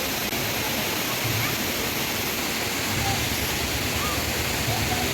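Hinulugang Taktak waterfall in Antipolo roaring as a steady, dense wash of falling water, loud and constant throughout.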